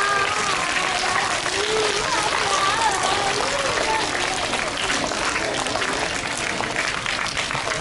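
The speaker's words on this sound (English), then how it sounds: "Children, keep clapping." Children clap together at a school poetry recitation and storytelling competition, a steady dense applause that fills the whole stretch with no pause.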